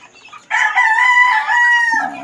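A young two-month-old chicken gives one short, loud, close crow with a hoarse, wavering tone lasting under two seconds, alone without talk.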